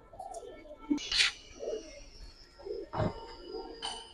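A female red Dobaj pigeon gives a few soft, low coos in short bursts, close by, with faint rustling and small background noises between them.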